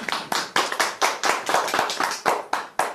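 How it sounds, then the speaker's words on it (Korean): An audience at a sales seminar clapping in agreement: about a dozen sharp, distinct claps over a few seconds, close and brisk rather than a continuous roar. "동의하시면 박수 한번 쳐주십시오."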